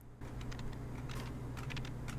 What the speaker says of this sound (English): See this keyboard? You hear that?